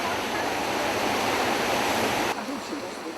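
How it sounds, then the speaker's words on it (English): Mountain creeks pour into a racing river current heading south toward the Beijiang, upper Pearl River, in Mount Mang nature reserve; a steady, loud broadband rush of water fills the clip, easing slightly near the end. "Mountain creeks are trickling into racing river current, running south into Beijiang, the upper reach of Pearl River."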